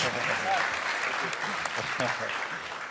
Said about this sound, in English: Round of applause for Frank